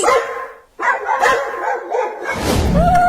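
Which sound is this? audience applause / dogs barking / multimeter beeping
dogs barking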